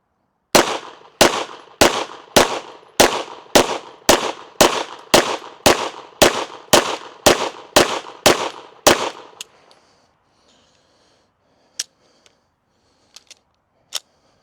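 Pistol firing a rapid string of about fourteen loud, closely spaced shots with Fiocchi small pistol primers, each a sharp crack with a short ringing tail, followed by silence and a few faint metallic clicks.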